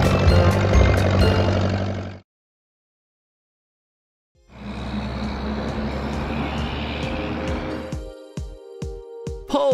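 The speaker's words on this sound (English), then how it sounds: "Forage harvester" A cartoon forage harvester rumbles with a loud, steady engine drone that cuts off into two seconds of silence. It then returns as another sustained roar that breaks into short choppy bursts at the end.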